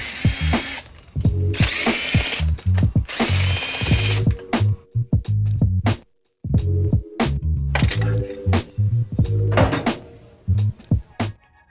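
Ratchet working on the spark plugs of a 1968 Ford Mustang engine, bursts of rapid metallic clicking strokes repeated in quick sets, with short pauses and clinks of tools between them, close and loud.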